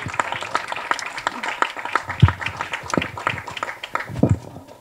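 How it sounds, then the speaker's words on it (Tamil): An audience applauds as a singer is welcomed onto the stage at a speech event, with crisp individual claps over a thinner wash that rises and falls, some louder hits near the end and faint voices mixed in. "பெரிய பெரிய கைத்தட்டல்களுடன் let's welcome the super talented the on stage"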